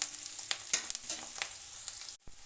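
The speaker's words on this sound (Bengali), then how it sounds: "দিয়ে দিলাম পেঁয়াজ কুচানো। একটু নেড়ে চেড়ে নিয়ে নিলাম।" Chopped onions fry in a pan for a bitter gourd chorchori with a soft, steady sizzle, broken by scraping stirs and light clicks, quiet and close, then a brief drop near the end.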